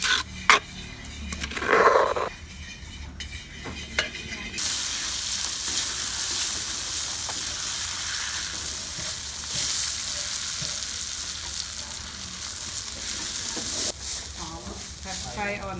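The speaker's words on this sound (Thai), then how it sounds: "ผัดไฟอ่อนนะคะเดี๋ยวมันจะไหม้ผัดไฟกลางอ่อนๆสักประมาณ5 นาทีนี่แหละพอให้สุกเนาะ" Jaew bong chili paste stir-fries in oil over low to medium heat, giving a continuous hiss and crackle with scraping stirs early on, close and steady.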